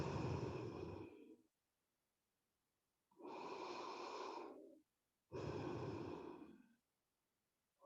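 Deep belly breathing during a yoga sequence, three long, close breaths with airy rushing sound, each followed by quiet pauses, no talk.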